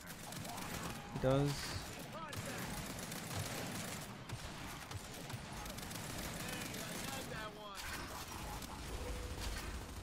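Gunfire in Gears 5 during a sweaty ranked Control match, dense rapid shots running throughout with mechanical clatter, mixed under continuous excited player chatter.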